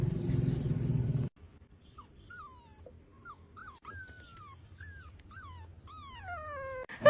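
Tiny puppies whimper and yelp in high, wavering cries while play-fighting, with a loud rustling burst at the start and then close, repeated whines building toward the end.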